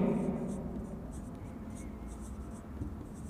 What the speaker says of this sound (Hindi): तो मैं लिखता हूं इसमें